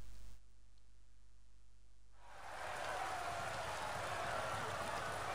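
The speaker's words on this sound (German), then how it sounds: "Jetzt sogar mit Regen." Rain in the video game Assassin's Creed Origins, during a race at the Hippodrome arena: after a quiet opening of about two seconds, a dense, steady hiss of rainfall rises and continues evenly to the end.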